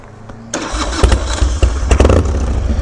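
A Harley-Davidson Dyna motorcycle engine cranks briefly, then fires up into a loud, close, rumbling idle with uneven, throbbing pulses; no talking.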